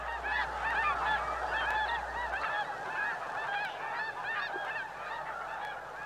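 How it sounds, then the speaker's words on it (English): A large flock of snow geese honking continuously, dense overlapping calls filling the air at a moderate distance. "Those are snow geese."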